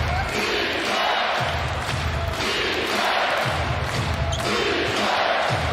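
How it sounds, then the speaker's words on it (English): Dense roar of an NBA arena crowd at Target Center during a tight Thunder–Timberwolves finish, loud and sustained with rising excitement and faint ball bounces beneath. "The crowd here inside the Target Center rises to its feet."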